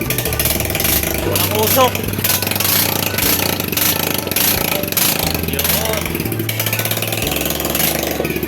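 A Yamaha Mio motorcycle engine fires up and idles with a steady, loud low putter, its revs rising and falling slightly while someone talks over it.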